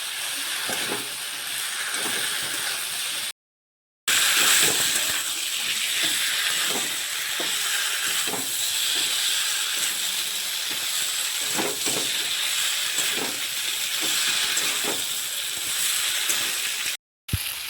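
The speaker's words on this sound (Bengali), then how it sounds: "এবারে ভেজে রাখা সবজিগুলো দিয়ে দিচ্ছি" Pre-fried vegetables sizzling in spiced oil for Bengali aloo fulkopi, a continuous hissing fry with repeated soft stirring scrapes, cut by a short silent gap partway through.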